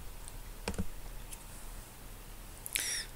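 A computer mouse clicks while someone works in FreeCAD; a quick double click and a few other soft, faint clicks sound in a quiet room.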